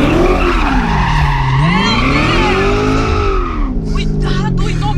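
A Corvette's tires squeal loudly in a long wavering screech as the car skids, with the engine roaring close underneath, ending in a few short chirps.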